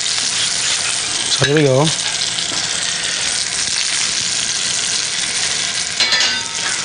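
Lamb searing on a stovetop, a loud continuous close sizzle of fat and meat throughout, with a short spoken remark near the start.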